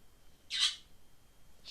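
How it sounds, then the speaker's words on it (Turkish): A pet bird gives a single bright, fairly close squawk, with the start of another call cutting in at the very end, against quiet room background. "Kuşum susar mısın?"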